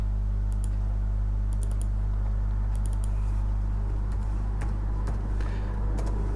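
Computer keyboard keys typed in short clustered bursts of quick clicks against a steady low hum, with no talking.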